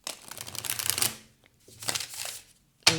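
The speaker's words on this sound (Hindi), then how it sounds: "last shuffle" Tarot deck being shuffled by hand, two soft riffling bursts close by, followed by a sharp tap of the cards at the end.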